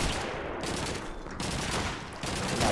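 Gunfire fills a Call of Duty 2 battle, with dense continuous shooting and bursts that swell and fade, loud and close, with no voices.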